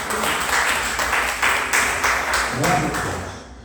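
A church congregation at a Brazilian worship service bursts into loud applause, a thick wash of clapping that swells and fades, with a few voices rising at the end.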